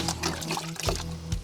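Creek water poured and sloshed over tractor parts during off-grid servicing, a steady wet pouring rush with two heavier splashes near the end.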